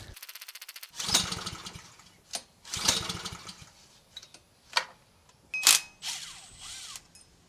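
Small engine cranking and attempting to start after being fed fuel, with several separate bursts of sputtering turnover broken by quieter gaps and clicks, close and loud.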